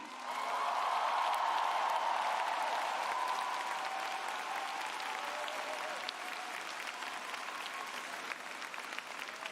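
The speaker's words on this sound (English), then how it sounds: "give your parents, families, loved ones, and friends a round of applause" A large commencement audience at Emerson College breaks into sustained applause that swells quickly and then holds as a steady, dense wash of clapping, heard from some distance for about ten seconds.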